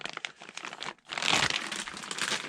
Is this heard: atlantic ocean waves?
no